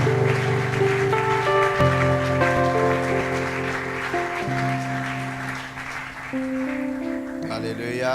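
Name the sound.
audience applause welcoming a pastor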